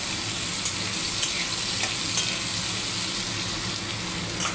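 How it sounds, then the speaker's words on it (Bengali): Potatoes frying in fish oil left in the pan after frying fish give a steady, dense sizzle that holds evenly throughout, close and continuous, with faint stirring touches and no voices. "আলুগুলোকে আমি ভালো করে ভেজে নেবো, মাছের তেলেই ভেজে নেবো"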